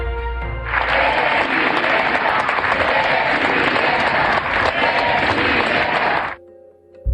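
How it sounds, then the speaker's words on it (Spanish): An audience applauds and cheers President Claudia Sheinbaum at a formal event, a dense, loud, steady roar of clapping that lasts about six seconds before cutting off abruptly into near quiet. "los asistentes no se cansaron de aplaudirle y lanzarle porras"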